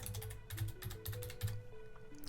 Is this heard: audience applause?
no